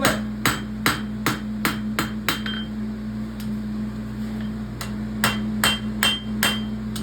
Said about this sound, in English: I'm going to use this side of my hammer, and I'm going to pull this like a clip.